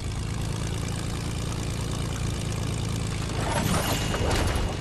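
A steady, droning propeller airplane engine in a video game, running continuously at moderate level, with a slight rise in roar toward the end.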